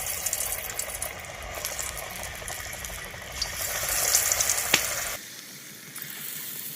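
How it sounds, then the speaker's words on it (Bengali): Cauliflower pakoras drop one by one into hot oil and deep-fry with a loud, continuous crackling sizzle, a sharp metallic clink near the end, then the frying drops to a quieter bubbling. "ছেড়ে দিচ্ছি ফুলকপি।"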